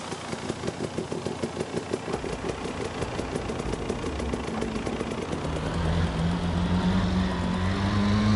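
A motorbike engine idling in the Farming Simulator 22 video game, a steady close chugging putter that thickens and deepens toward the end as the revs rise slightly.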